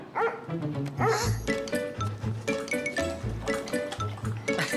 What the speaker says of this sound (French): Oui, mais qu'est-ce qu'il fait ici, ce chien?